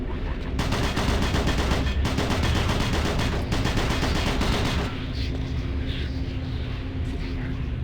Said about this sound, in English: So, new shotgun.